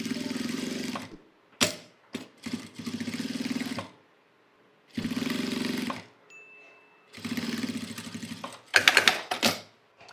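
A sewing machine topstitches along a seam on a handmade fabric Bible cover, running in three steady bursts of rapid needle hammering with quiet pauses and handling clicks between, close and loud.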